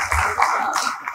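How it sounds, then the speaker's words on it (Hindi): Audience at an All India Mushaira in Hyderabad clapping, a short patter of many hands in quick, uneven bursts, moderately loud and brief. "एक बार आप लोगों के लिए ताली बजाइएगा"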